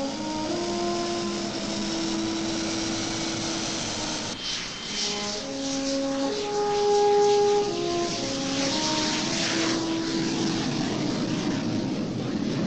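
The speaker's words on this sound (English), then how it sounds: "The Australian-built Macchi is a beautiful machine to fly." A whining jet drone from an Australian-built Macchi trainer aircraft in flight holds steady, with layered tonal hums that shift pitch. The sound is loud and continuous, and no voices are heard.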